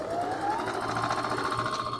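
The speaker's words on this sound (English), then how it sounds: "Now I'm sewing the godets." Domestic sewing machine stitching godets into an upcycled Zara dress, a steady fast whirring hum running continuously and close for the whole stretch, no pauses.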